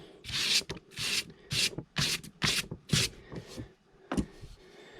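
Sandpaper rubbing over a patched boat hull repair, about eight short rasping strokes in uneven bursts, close and moderately loud, with no talking.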